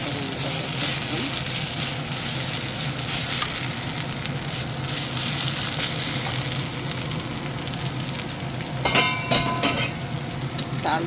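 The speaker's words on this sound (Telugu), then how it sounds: "ఉల్లిపాయలు ఎర్రగా వేగాక ఈ కాకరకాయ ముక్కలు అందులో వేసేసుకొని" Bitter gourd pieces fry with browned onions in a pan, giving a loud dense sizzle throughout, with a few metallic stirring clatters near the end.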